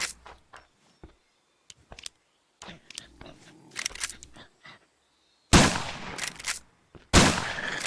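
Scattered gunshots in the zombie survival game Survive The Nights ring out as sharp single cracks, then two longer, louder bursts toward the end, with quiet gaps and some talking in between.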